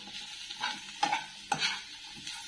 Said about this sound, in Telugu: ఇదంతా బాగా కలుపుకుందాం.